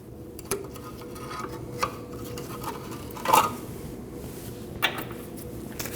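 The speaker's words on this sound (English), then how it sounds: "To remove your cotter pin, just push down on the pin in the back and pull it out the front." Small metallic clicks and light scraping as a cotter pin is worked out of an outer tie rod on a 2003-2008 Subaru Forester, a handful of faint taps followed by a brief, sharper metal rattle near the middle.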